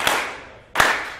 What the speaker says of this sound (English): So I want everyone to start clapping.